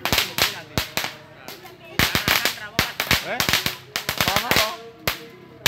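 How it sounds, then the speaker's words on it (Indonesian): A three-meter belt of firecrackers set off in front of a house, popping in rapid irregular bursts of sharp, loud cracks, with short pauses between volleys while people talk nearby. "Mercon sabuk 3 meter."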